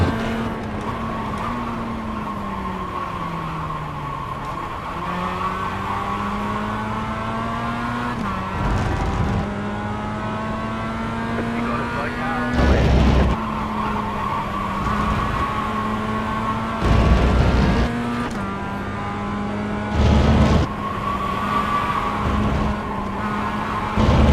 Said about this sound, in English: I just decrease the engine sound and increase the tire sound so I can hear even more the screeching.